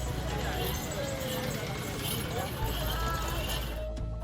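Horses at the international Pushkar fair, luxury-tented stock brought from several states, with hooves clip-clopping amid a dense, busy crowd and continuous people talking throughout.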